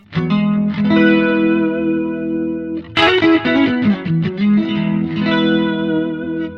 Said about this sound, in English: which is a pitch effect with a plus and minus detune